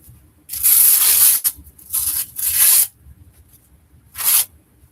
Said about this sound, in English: I feel like I actually need to tighten the vest up a little bit.